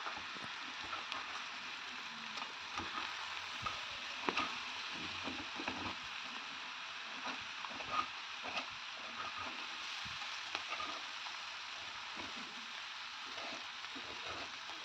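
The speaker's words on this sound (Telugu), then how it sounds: "పొటాటో పీసెస్ లోపల సాఫ్ట్గా ఉండి అవుటర్ స్కిన్ క్రిస్పీగా ఫ్రై అవుతుంది" Potato pieces shallow-frying in oil in a pan, a steady faint crackling sizzle with scattered small pops, continuous and alone throughout.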